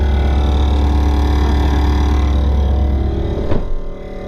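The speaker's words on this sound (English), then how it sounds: "The sound you're hearing is a vacuum pump down here by the brake booster." A vacuum pump by the brake booster of a 2015 Isuzu NPR truck runs with a loud, steady low drone and hum, fading near the end after a brief clunk.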